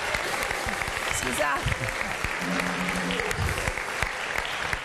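A studio audience at a Christmas sports television event applauds steadily throughout, a dense continuous clapping with a brief spoken word over it midway.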